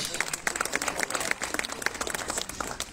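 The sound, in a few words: audience applauding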